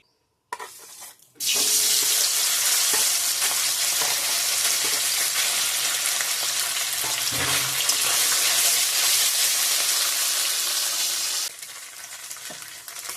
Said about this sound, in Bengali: এখন পনিরটা ভেজে নিচ্ছি